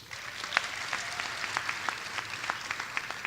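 Scattered applause from a school audience honoring world language teachers at a high school honor society induction, moderately distant with irregular claps throughout.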